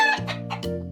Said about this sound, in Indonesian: Ayam bahasa Inggrisnya chicken.